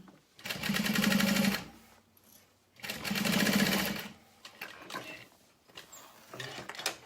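Two long bursts of a sewing machine basting a leather wallet flap, a rapid mechanical chatter of about a second each, near and loud, followed by softer handling noises of the leather.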